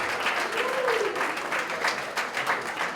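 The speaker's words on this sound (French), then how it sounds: "Applaudissez pour lui, s'il vous plaît." Guests at a family surprise party for a father clap continuously for about three seconds. The applause is close and lively, and a voice rises briefly above the clapping.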